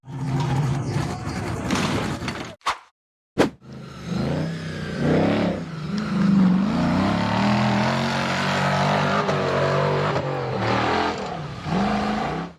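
Off-road buggy number 502 revs hard while climbing a steep rocky slope, its engine roaring loud and close with rising, straining pitch, broken by a couple of brief cut-outs early on.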